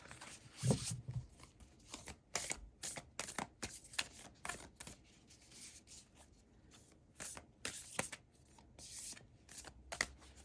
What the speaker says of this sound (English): So let's give this oracle a shuffle.